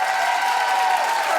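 A studio audience at a daytime talk show breaks into steady, dense applause, a brief wash of many hands clapping close and even with no voices over it.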